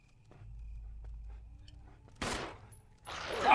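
In the game Resident Evil, after a quiet low hum two sharp gunshot bursts ring out loudly, the second longer and brighter than the first.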